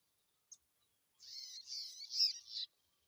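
A prinia calls in a bird-trapping outing, a brief chirp followed by a continuous buzzy, trilling song for about a second and a half, moderately close and heard alone without talk.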